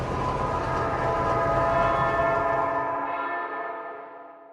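A train rumbles past while church bells ring out, the deep rolling rail noise and layered bell tones blending loudly before the low rumble cuts away and the bells fade.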